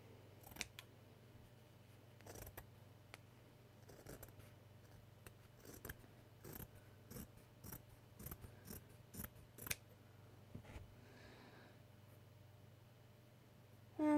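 Scissors snipping through stretchy fabric to make nappy liners, a steady series of crisp, close cuts in a quiet room with no talking.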